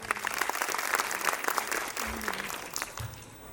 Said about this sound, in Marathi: सो जोरदार टाळ्या सगळ्यांसाठी